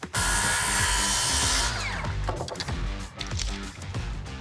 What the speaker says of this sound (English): I'm gonna set my circular saw all the way down. So that way I'm cutting through the first 2x4 and I'm cutting into that second one.